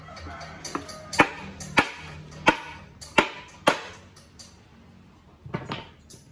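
Sharp metallic knocks tapping a cylinder liner into an Isuzu Panther engine block, about seven distinct hits spaced irregularly, close and fairly loud with quiet gaps between.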